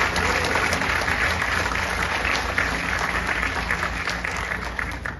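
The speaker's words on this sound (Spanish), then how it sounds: "Le damos un fuerte aplauso a Rubén" Sustained applause from a cinema audience at the reopening of a newly remodeled theater in Caguas, steady dense clapping running the whole time with a few louder claps standing out.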